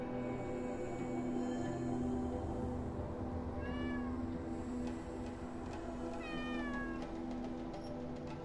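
A cat meows twice, rising short calls in a video game's wilderness, heard over a steady loud hum of game ambience and background music.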